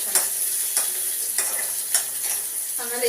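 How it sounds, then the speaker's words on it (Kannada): Onions frying in a hot pan, a constant close sizzle punctuated by about five regular scraping strokes as a spatula stirs them. "ಇದು ಈರುಳ್ಳಿ ಫ್ರೈ ಆಗಲಿ ಚೆನ್ನಾಗಿ."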